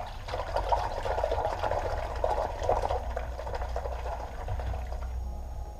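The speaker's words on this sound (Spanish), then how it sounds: "Y le vamos a pegar un lavado a esta espuma" A foam motorcycle air filter from a Voge 300 Rally is washed by hand in a small bucket of soapy water, giving a steady close sloshing and splashing with a soft watery hiss and no speech.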